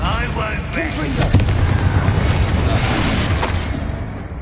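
Wizard spell blasts from a video game, a dense barrage of booming explosions and crackling bursts that run continuously and loudly, with shouted incantations mixed in among the impacts.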